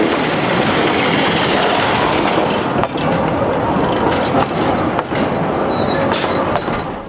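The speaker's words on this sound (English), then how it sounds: "train continues its journey down grade just below Rushing Meadows." A logging train of the Pickering Lumber Corporation runs down grade below Rushing Meadows, a loud, continuous close rumble with clattering wheels and occasional sharp squeals and clanks.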